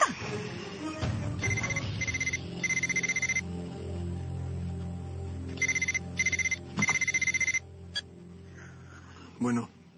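A telephone rings in a drama scene, with two separated bursts of repeated electronic trills heard between stretches of quieter room sound, with brief voices nearby.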